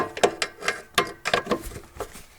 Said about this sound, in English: now I loosen that bolt and I rotate that